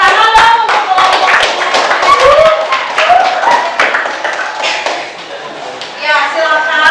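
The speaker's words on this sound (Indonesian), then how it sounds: "Tepuk tangan dong untuk kelompok" Schoolchildren in a classroom clap for a group of classmates, a rhythmic series of sharp, close hand claps mixed with children's voices and chatter throughout.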